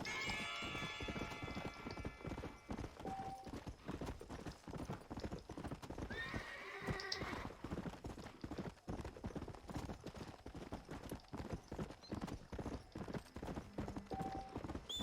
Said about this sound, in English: I don't think I've called the horse this early in a long time.